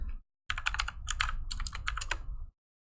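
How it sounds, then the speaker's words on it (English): A quick burst of clicky keystrokes on a computer keyboard, typed while searching materials in Revit, rattles along for about two seconds, close and clear, then stops. "let's type in wood"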